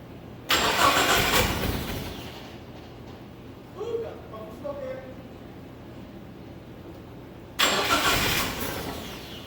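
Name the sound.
SRT4 drift truck engine cranking and starting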